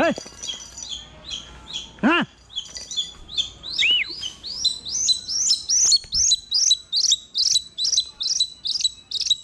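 Hunting birds kept for training give a long run of sharp, repeated chirps and tweets, close and clear, with a few lower calls early on and no talk.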